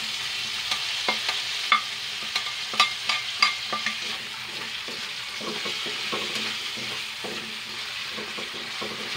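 Ham sautéed in a pan with onions crackles and sizzles as it is stirred, with a series of sharp spatula clicks and scrapes over a steady frying hiss, close up.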